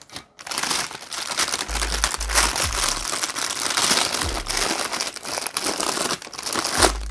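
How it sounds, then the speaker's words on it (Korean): Plastic shoe wrap film around a Nike Air Jordan 1 Travis Scott sneaker is rolled up and crinkled by hand, a close, continuous crackling rustle with a few heavier crunches. "이 뒷부분을 말아서 붙일 거예요."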